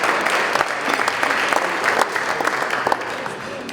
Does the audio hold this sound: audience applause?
yes